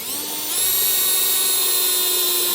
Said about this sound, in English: So I'm going to take a hole saw